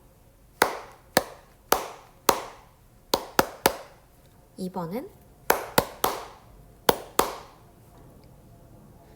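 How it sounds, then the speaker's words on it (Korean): Hand clapping demonstrating 6/8 rhythm patterns in a sixth-grade online music lesson: crisp, close single claps in short, uneven groups, with a brief spoken interjection midway and pauses between patterns. "한번 4가지 리듬골들을 박수로 쳐서 들려드리겠습니다"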